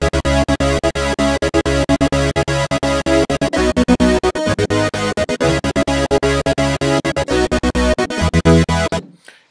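A gated synth pattern programmed in Reason 6, loud sustained synth chords chopped into rapid rhythmic on-off pulses with a few brief gaps, stopping abruptly near the end.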